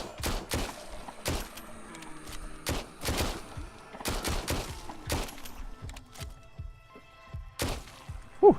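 Gunshots ring out in the VR zombie shooter Arizona Sunshine, firing in irregular bursts of sharp, loud cracks with short pauses between them and a final shot near the end.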